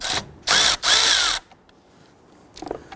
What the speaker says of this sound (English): Using a 10 millimeter socket, let's go ahead and loosen the ground terminal on the battery.